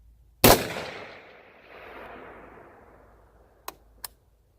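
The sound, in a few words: 6.5 Grendel hunting rifle gunshot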